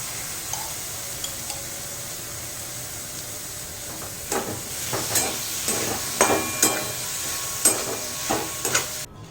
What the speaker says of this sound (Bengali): সটে হয়ে গেছে, জাস্ট সটে করতে হবে।